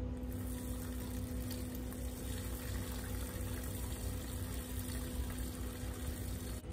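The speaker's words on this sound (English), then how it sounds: "We're gonna dump out some of the hot water as to not damage the greenery around us" Hot wool-scouring water is poured out onto rocks outdoors near greenery, making a steady, even rushing splash that continues without pause and stays fairly quiet throughout.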